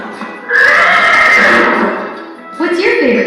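A horse lets out a loud, close neigh that trails off, followed by a second shorter whinny a moment later.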